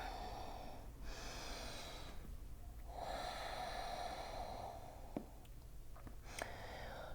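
Slow, steady Ujjayi yoga breaths, each long airy inhale or exhale drawn through a constricted throat during a hip-opening flow, close and soft with brief pauses between, no talking.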